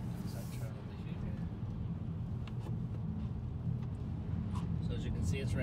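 A 2018 Honda Accord Sport 1.5 drives on a wet road in the rain, with a steady low rumble and tire hiss and a few faint clicks and ticks, and no voices.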